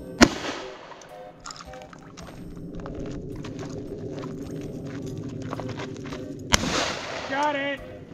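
Two sharp, loud gunshots ring out at a shooting range during a casual range day, one at the very start and another several seconds later, with people talking and murmuring over a steady background between the shots.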